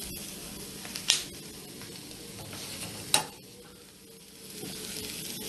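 Onions sautéing in a pan until translucent, a soft continuous sizzle close by with two sharp clicks of the utensil against the pan and a gentle rise in hiss near the end, with no speech.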